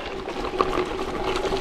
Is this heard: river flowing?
yes